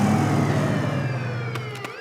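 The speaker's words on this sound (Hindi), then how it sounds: "ये तो पुलिस का सायरन है" Cartoon soundtrack with a steady droning tone and sweeping sirenlike lines over a low engine rumble, ending with a few sharp bright bursts near the close; no talk.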